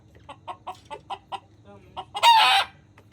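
Native desi chickens on a Bangladeshi integrated poultry farm cluck in a steady run of short repeated calls, ending with a louder, drawn-out squawk near the close, close by with no talk.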